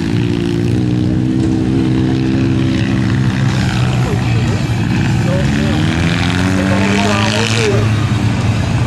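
Kartcross karts racing at a dirt-track final in Chassiecq, 2013, engines buzzing and revving loudly and continuously nearby, with speech mixed in beneath the engine noise.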